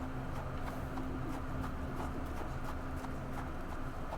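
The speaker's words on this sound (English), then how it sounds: "Horsey! I want to give pets." Horse in Sherlock Holmes: The Awakened, a steady run of hoof clip-clops over a constant low hum and game ambience, moderately close with no speech.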